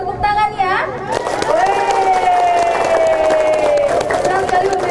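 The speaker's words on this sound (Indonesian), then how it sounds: "saya minta semangat dan tepuk tangan ya" An audience at an outdoor gathering in a village claps and cheers, a lively burst of hand claps mixed with crowd voices and children, while someone talks over it.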